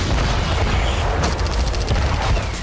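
A drone strike explosion on Russian soil, heard as a loud, sustained broadband roar with crackling bursts throughout, close and dominating, with no talk.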